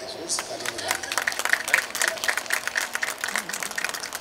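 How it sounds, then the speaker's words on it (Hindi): Applause from a live audience at a Jashn-E event in India, a steady patter of many clapping hands that rises and falls over a few seconds, with a voice briefly audible above it. "आप लोग बहुत ठंडे पड़े हैं जोर से तालियां बजाते हैं"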